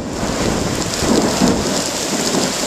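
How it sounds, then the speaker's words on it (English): Heavy rain pounds down during a hurricane at Kenosha, a loud, dense hiss with low thunder rumbling underneath and swelling in the middle, no speech heard. "Hurricane Jimbo is coming through fierce once again"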